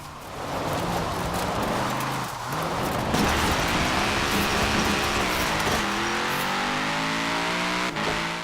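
A car in the Forza Horizon 4 racing game drives and drifts, its engine revving loudly with rising and falling pitch as tires squeal through the slides, continuous and close.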